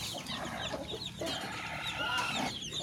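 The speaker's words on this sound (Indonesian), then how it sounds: "Ini ayam yang putih" Free-range village chickens, including a white hen, cluck steadily and close by on a small farm, with chicks peeping softly in the background.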